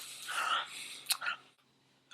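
A voice imitates loud, wet mouth breathing while eating, with a few breathy, smacking bursts close up, a brief sharp puff near the middle, then quiet.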